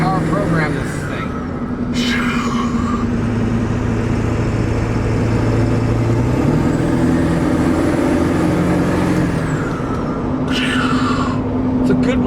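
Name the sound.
1999 Ford F-350 7.3 turbo diesel engine running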